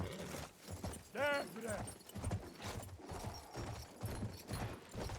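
A horse gallops in the World War I shooter Battlefield 1, with rhythmic hoof clops repeating steadily and a brief whinny near the start, all fairly faint beneath game ambience.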